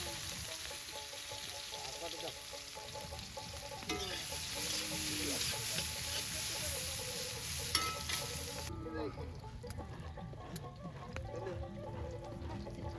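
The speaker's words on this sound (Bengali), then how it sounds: "তেলটা গরম হয়ে গেছে, পেঁয়াজ দিয়ে দিলাম।" Onions hit hot oil in an outdoor village picnic pan, giving a steady close sizzle with stirring scrapes throughout, while people talk over the frying.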